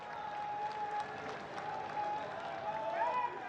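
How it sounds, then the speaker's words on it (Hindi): A large crowd at an open political rally in Jalandhar, Punjab claps in welcome of Prime Minister Narendra Modi, a fairly faint, steady spread of applause lasting a few seconds, with a sustained voice or tone carrying over the top. "आओ जोरदार तालियां नाल उन्हां दा स्वागत"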